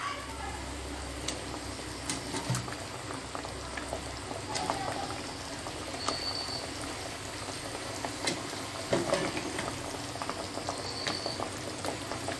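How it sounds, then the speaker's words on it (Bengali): Curry gravy bubbling in a pot with stuffed teasel gourd, a continuous fine crackle of boiling with occasional louder pops, close and fairly quiet, with no clear speech. "আমার ঝোলটা ফুটানো শুরু হয়ে গেছে, এখন আমি দিয়ে দিচ্ছি কাঁকরোলগুলো।"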